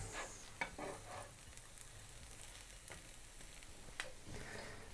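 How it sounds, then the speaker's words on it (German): Soft, quiet sizzling of bread frying in a pan, with a few faint clicks and scraping touches now and then. "darin braten wir jetzt erstmal schön dieses Brot goldgelb an"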